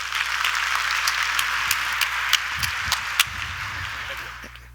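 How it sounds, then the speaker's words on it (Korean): Audience applause at a Seoul AWS Summit 2016 database session, a steady dense wash of many hands clapping throughout with a few sharper individual claps standing out, fading slightly at the end. "도움이 됐으면 박수 좀 해주세요."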